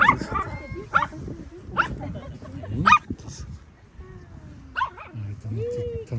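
Dogs belonging to tourists outdoors near mountains and rapeseed fields bark in several short, sharp yaps with whimpers between, fairly close, while voices talk in the background.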